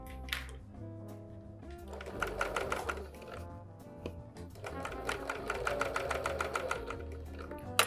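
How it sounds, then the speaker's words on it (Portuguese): A sewing machine stitches bias binding for a patchwork project at a quarter-inch seam allowance, running in a steady rapid mechanical chatter with brief pauses, close and fairly loud, with no talk. "vamos a costurar com a margem de 1/4 de polegada até este ponto"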